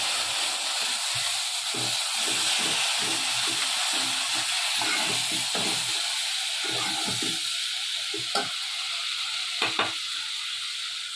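Boiled urad dal (mash ki daal) cooking water poured into a hot pan, a steady loud sizzle and hiss with stirring scrapes throughout, close by.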